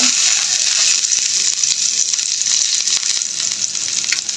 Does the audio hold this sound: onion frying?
yes